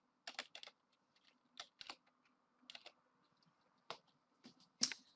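Keys clicking on a computer keyboard during a Minecraft game, short bursts of quick close taps separated by quiet pauses.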